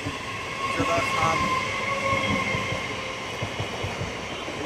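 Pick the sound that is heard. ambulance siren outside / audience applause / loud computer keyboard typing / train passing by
train passing by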